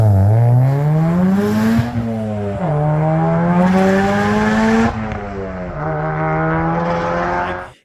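A 500+ bhp big-turbo Audi TT Mk1 engine revving hard, loud and close, with repeated rising sweeps through the revs and brief dips between pulls, no talk over it.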